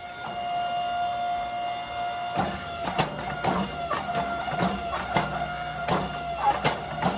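A forging press squeezes a Damascus steel billet down into bar stock in a smithy making a viking axe, with a steady mechanical hum and tone, then a series of sharp, irregular clanks and thumps close by.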